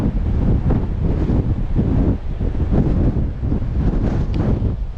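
Strong wind buffets the microphone on an exposed cliff top by the sea, a loud continuous roar with gusty surges throughout.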